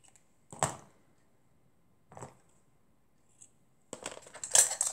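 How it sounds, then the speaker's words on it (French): Scissors or a cutter trims excess material from small handmade Playmobil-scale furniture: a few separate snips and clicks with silent gaps between them, then a busier burst of rustling, scraping cuts at the end. "Voilà, on coupe le surplus."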